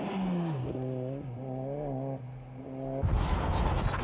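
Group N Ford Sapphire Cosworth rally cars race during the 1992 Galway International Rally. A rising and falling engine note revs through gear changes, then bursts into a rougher, louder roar as a car passes close.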